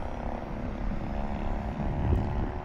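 An RC F4U Corsair model airplane, a Rage RC model flying with a gyro, drones steadily at a distance as a faint continuous propeller hum.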